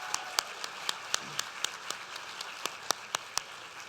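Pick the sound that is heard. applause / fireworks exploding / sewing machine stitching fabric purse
applause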